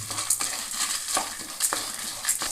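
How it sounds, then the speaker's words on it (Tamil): Red chilies and chana dal roast in a pan under a steady dry sizzle, broken by repeated close scrapes and stirs of a spatula at an uneven rhythm. "இப்போ அடுத்தது சிவப்பு மிளகாயை ஆட் பண்ணிக்கலாம் இது ஒரு அதிலே வறுத்துடலாம்"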